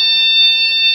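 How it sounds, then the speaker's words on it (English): Steady high-pitched electronic tone from an infrared beam-break intruder alarm, sounding continuously and loud for the whole second with no talk. "then the alarm will sound"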